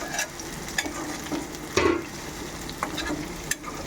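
Onions fry in a pan toward golden brown under a constant sizzle, with occasional scraping stirs of a spatula, close by.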